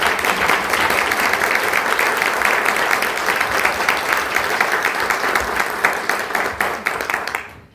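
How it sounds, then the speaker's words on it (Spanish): An audience claps steadily to welcome a professor before a lecture on the Lord of Sipán and the Lady of Cao, the applause dense and sustained, then dropping off sharply at the end. "Vamos a darle un fuerte aplauso de bienvenida, por favor."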